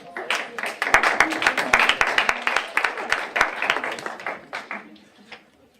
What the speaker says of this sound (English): Big round of applause for the College Democrats